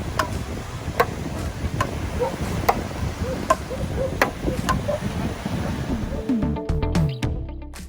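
Wooden matkot paddles smack a small rubber ball back and forth on a Tel Aviv beach, with sharp, regular knocks about every half second over steady surf and wind.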